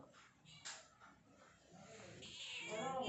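A cat lets out a drawn-out meow that swells louder at the end, after a short faint sound and some quiet background noise.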